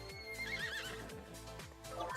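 A horse in the video game Miitopia lets out a short whinnying neigh over light game music, with faint clip-clop hoofbeat effects.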